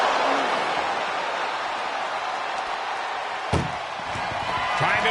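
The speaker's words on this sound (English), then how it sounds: "Trying to at least slam one door shut" Steel cage door slammed shut during a WWE wrestling match on PS5, a single heavy metallic slam in the middle standing out over loud, continuous arena crowd roar and commentary.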